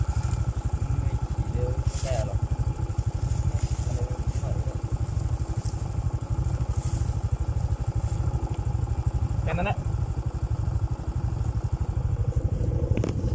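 A motorcycle being ridden at speed on a rural road, its engine a steady close pulsing drone throughout, with wind noise and a few faint clatters.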